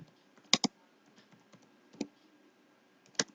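Typing an image prompt on a computer keyboard, a few faint, scattered key clicks in short bursts with quiet gaps between them, in a quiet room.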